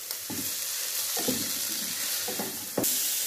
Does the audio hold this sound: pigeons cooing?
no